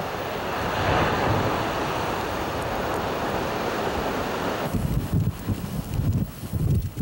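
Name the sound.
winter sea waves crashing and northwest wind at Hongdo island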